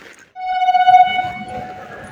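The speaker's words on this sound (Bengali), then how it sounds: "অবশেষে ট্রেনটা ঢুকছে" A train pulling into a station sounds one loud, sustained horn blast that stops sharply, then its rumble carries on more quietly underneath.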